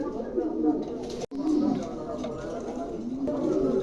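Soft, low cooing of fantail pigeons for sale repeats close by, mixed with murmuring voices, with a brief dropout partway through.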